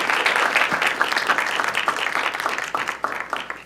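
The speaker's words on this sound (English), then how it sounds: "A round of applause." An audience applauds after a panel discussion at a Chicano studies symposium, a dense, steady wash of many hands clapping close by that holds strong for the whole stretch, with no talking over it.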